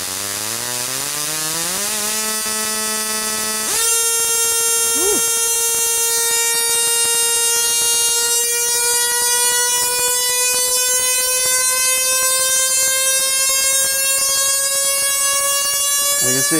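Mini musical Tesla coil set to a square wave, buzzing a loud, harsh, continuous electric tone that starts low, steps up in pitch, then holds steady with only slight drift.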